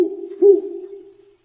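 A single owl hoot, used as a sound effect in a children's unicorn story, rings out as a clear, sustained tone that swells briefly and then fades over about a second.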